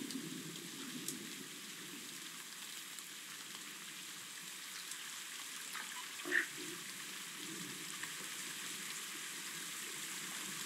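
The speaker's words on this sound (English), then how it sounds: "Oh, the rain is so loud here." Rain falls on a forest at night in the zoo-building video game Planet Zoo: a soft, steady hiss of drops, fairly faint and continuous, with one brief louder tap partway through and no talking.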